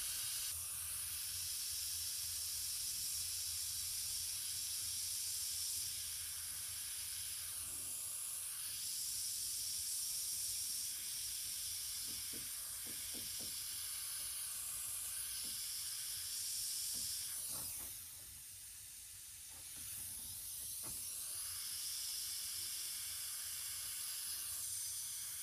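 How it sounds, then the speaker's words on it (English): An airbrush sprays paint in a steady, continuous hiss for freehand painting of flower petals, with brief pauses and shifts in pressure as the trigger is worked, close and fairly quiet. "working with the trigger mechanism on the airbrush"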